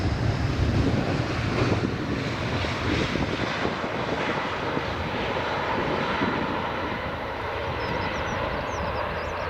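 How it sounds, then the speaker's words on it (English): An Air France A319 airliner passes at an airport with a steady, broad jet roar that holds for the whole stretch, mixed with wind buffeting on the microphone. "Going to see an Air France A319 in just a second"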